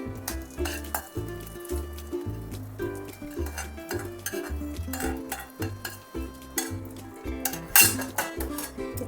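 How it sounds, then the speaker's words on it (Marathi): A spoon stirs curd rice just doused with a hot tempering of curry leaves and dried red chilies, giving a steady run of soft scrapes and clinks over a faint background tone. "चांगलं असं मिक्स करून घ्यायचं"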